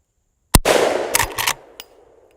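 A Henry lever action rifle fires one sharp, loud shot at close targets like silly string and shaving cream, followed by a burst of splatter and a few trailing clatters fading away.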